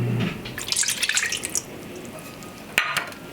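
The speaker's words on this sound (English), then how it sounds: "I have half a cup of water." Half a cup of water poured in a home kitchen during sausage cooking, a brief soft splashing trickle followed by a sharp clink near the end.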